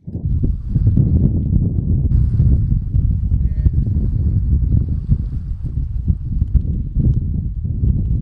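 Strong wind buffets the microphone on a beach at La Paz, Baja California, producing a loud, continuous low roar that gusts unevenly throughout.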